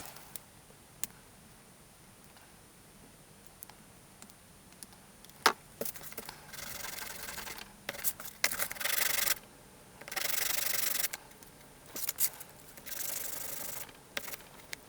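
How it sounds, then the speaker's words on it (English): Intermittent rasping and scraping strokes, short bursts of filing and sanding on a plastic toy piece, with quiet pauses between passes; no voices. "So let's get to filing and sanding."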